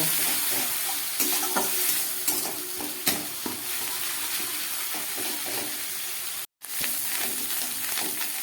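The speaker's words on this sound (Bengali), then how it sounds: "পেঁয়াজটাকে আমি খুব ভালো করে ভেজে নেব" Onion paste sizzles steadily in a hot pan, with occasional scraping and stirring clicks, close and continuous throughout.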